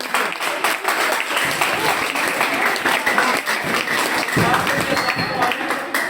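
Applause for a young contestant on a quiz show, a sustained wash of clapping from a studio audience with voices mixed in, steady and fairly loud throughout.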